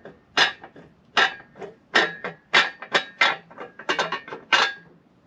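Metal knocking and rattling from a loose PLM H22 Tri-Y header flange wobbled on its studs, giving about nine sharp clanks in an uneven rhythm, close and fairly loud.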